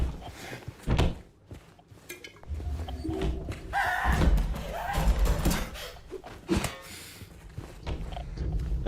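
Loud ambient soundscape from the Silent Hill 2 remake video game: irregular deep thuds, bumps and scraping noises over a constant murky rumble, with no speech.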